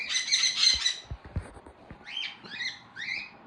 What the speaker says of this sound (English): He's a sun conure. He's really loud.